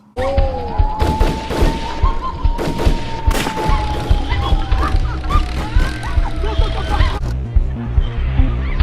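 Fake-sounding gunshots in a Nollywood movie scene come as rapid bursts of loud, flat bangs under a sustained musical tone, with talking mixed in throughout.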